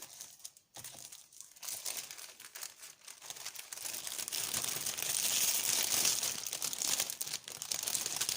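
Continuous crinkling and rustling of a plastic bag, close and fairly quiet, growing denser and steadier partway through, with no voices.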